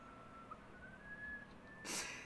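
A person whistles indoors in a room: one sustained, wavering whistle tone held steadily for about two seconds, moderately loud and close, ending in a brief burst of noise.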